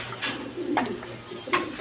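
Jacobin pigeons coo in a loft, low murmuring calls repeating over a steady background hum, with sharper brief sounds breaking in a few times.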